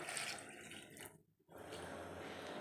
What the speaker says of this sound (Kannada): ಅದಕ್ಕೋಸ್ಕರ ನೀರು ಹಾಕ್ತಿದ್ದೀನಿ ನೋಡಿ ಇವಾಗ